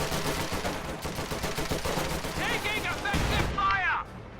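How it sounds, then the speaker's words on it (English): Artillery from a Scott self-propelled gun pounds enemy infantry near a house in Company of Heroes 2, dense battle noise with repeated booming impacts and gunfire, loud and continuous under a commentator's talk. "Scott continuing to bombard enemy infantry from behind its position here by the house."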